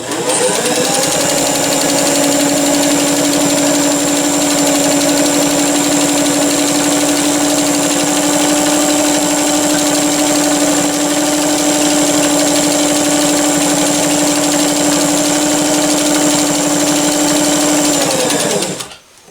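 A vintage Singer Fashion Mate 257 sewing machine stitches through three layers of cotton, a loud, close, steady motorized hum with a rapid needle chatter that runs unbroken for almost twenty seconds before stopping.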